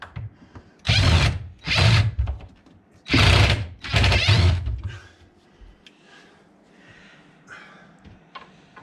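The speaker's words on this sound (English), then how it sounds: "Screw gun, I guess it would be called." A power screw gun drives screws while fitting a Formica countertop over a base cabinet, whirring in four short bursts, two pairs of loud close spins separated by pauses, with faint handling noise afterward.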